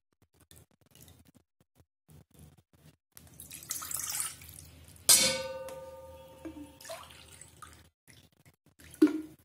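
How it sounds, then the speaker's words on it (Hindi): Water, about two cups, is poured into a bowl while making homemade natural mouthwash. A soft trickle is followed by a sharp splash and a ringing tail, then a brief slosh near the end. "इसमें लगभग 2 कप पानी डालूंगी।"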